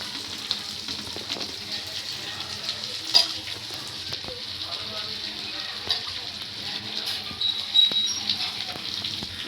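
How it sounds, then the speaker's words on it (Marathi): Bhakri flatbread cooks in a frying pan with a continuous soft sizzle and crackle, close and fairly quiet, with a few light taps and scrapes. "आता फ्राय पॅनवर करते आज भाकरी."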